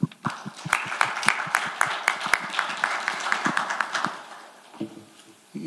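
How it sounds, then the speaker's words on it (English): A small audience at an exercise oncology lecture welcomes the speaker with applause, sparse individual claps that are distinct and close, thinning out and stopping before a brief murmur near the end. "Please join me welcoming him with a round of applause."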